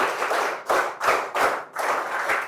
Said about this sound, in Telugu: గట్టిగా చప్పట్లు కూడా వెళ్ళించండి.